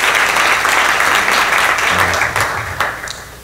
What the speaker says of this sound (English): So we have to give a round of applause.